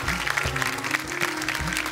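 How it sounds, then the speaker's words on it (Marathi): An audience claps loudly and steadily for a woman at a Marathi television game show. The applause is dense and sustained through the whole stretch, with no voices on top. "एकदा जोरदार टाळ्या ताईंसाठी झाल्या पाहिजे."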